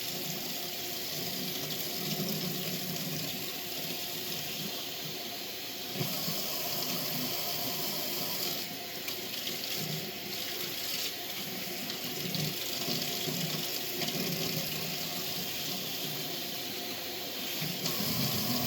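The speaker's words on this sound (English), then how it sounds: "I still have soap on my hands, so keep rinsing that again." Tap water runs steadily from a faucet into a sink as soap is rinsed off hands, a continuous close splashing hiss with slight shifts as the hands move under the stream.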